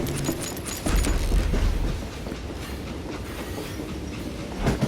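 A moving steam-era train in the Western video game Call of Juarez: Gunslinger rumbles along with rhythmic clickety-clack of wheels on rails and heavy rolling noise, steady and loud throughout, with no speech.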